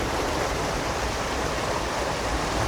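Irrigation water rushes steadily through a canal in a farming zone, a constant, even wash of flowing water with no breaks and no voices.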